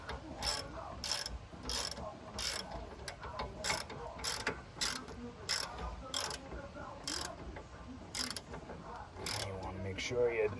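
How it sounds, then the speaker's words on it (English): Rapid bursts of socket wrench ratcheting on a Grand Marquis rear spring bolt during a Mustang rear spring swap, a dozen or so quick clicking strokes in an irregular rhythm, close and clear over faint background noise. "Take your your socket, and start wrenching back."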